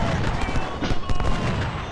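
Gunfire rattles through an Ultimate General Civil War battle at Cedar Mountain, a dense fusillade of overlapping rifle shots and low booms that continues without a break across the short stretch.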